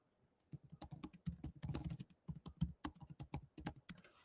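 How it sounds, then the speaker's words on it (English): Rapid, uneven clicking of keys on a computer keyboard as a word is typed in an office setting, close and crisp with no talking. "So for example, if I type in accelerate,"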